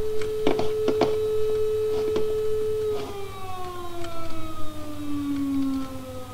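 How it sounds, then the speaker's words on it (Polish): A siren wails in a farming video game set during harvest. It holds a loud, steady tone for a few seconds, then slides downward in pitch and carries on alone. "Syrena wyje z te syrecka."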